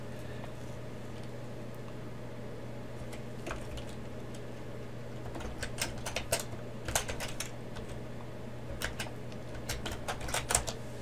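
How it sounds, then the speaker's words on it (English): Keys clatter on a computer keyboard as data is entered, sparse clicks at first and then quicker bursts of close, crisp typing over a steady low electrical hum. "So we're going to go ahead and type this in."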